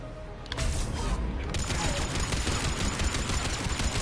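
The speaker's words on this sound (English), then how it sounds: "I'm just shooting you with a gun." Sustained, dense automatic gunfire from a weapon in the video game Mass Effect 3 erupts after a brief quieter lead-in and keeps rattling loudly without a break.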